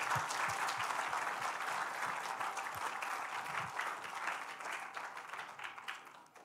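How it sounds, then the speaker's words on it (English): Sustained, dense applause from an audience cheering students at the close of a school history performance night, loud and even throughout before thinning slightly at the very end. "Let's give a round of applause to all our students."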